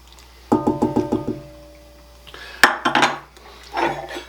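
Softened cream cheese and two sticks of butter mixed in a bowl for a hummingbird cake: a burst of rhythmic clinks and scrapes of utensil against the bowl, a sharp knock, then more scraping, close and fairly loud.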